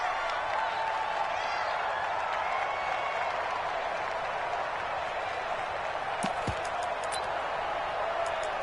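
Steady roar of a stadium crowd in a PS4 football video game, a dense continuous wash of cheering and applause-like noise with a few brief sharp clicks near the end; no talking.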